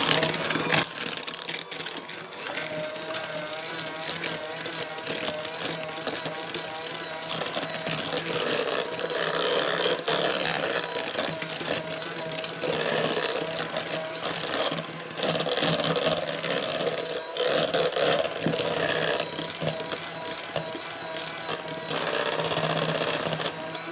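Granulated white sugar is mixed into a cream cheese danish batter with a steady, loud mechanical whirring and faint rattling that runs unbroken throughout, with no voices.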